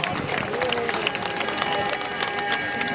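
Audience applause at a Republic Day performance, a steady, dense patter of clapping from a large crowd with a faint hum of voices beneath, continuous and moderately distant.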